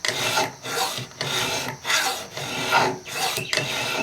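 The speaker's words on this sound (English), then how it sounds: "So all you have to do is start to grind off metal." A sharp hand file rasps metal off a knife blade in a simple grinding jig, giving four or five rhythmic back-and-forth strokes with short pauses between them, close and clear with no voices.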